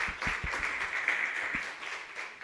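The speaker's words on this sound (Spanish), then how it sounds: "fuerte el aplauso" A church conference congregation breaks into fairly quiet applause, with scattered, uneven claps and a few low thumps early on, fading and swelling slightly across the stretch.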